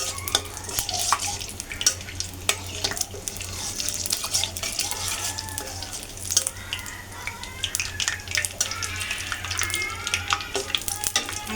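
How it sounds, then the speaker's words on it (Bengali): Spices frying in oil in a pan for a chicken and eggplant fry, a steady busy sizzle with scraping stirring strokes and crisp crackles throughout, close and fairly loud, with no talking. "মশলাগুলো ভাজা ভাজা হয়ে গেলে আমি পেঁয়াজ মরিচ ছেড়ে দেবো।"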